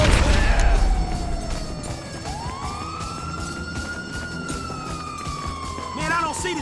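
Wailing ambulance siren in Grand Theft Auto 5, a loud rising and falling electronic tone that sweeps up and holds, close by over low street rumble.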